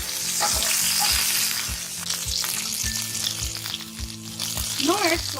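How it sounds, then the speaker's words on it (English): Stuffed pointed gourd (parwal) fries in a pan with spluttering cumin seeds, giving a steady bright sizzle. A spatula stirs through it with soft, regular knocks about twice a second. "Stir it."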